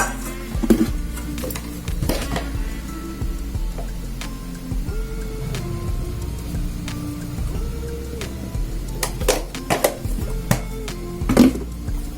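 Utensils clink and scrape against a dish while brinjal is tossed with turmeric, salt and chili powder, with scattered metallic taps and stirring sounds over a low background hum.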